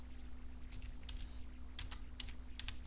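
A computer keyboard being typed on, heard as a few quiet, irregular key clicks in short bursts over a steady low electrical hum, with no one speaking.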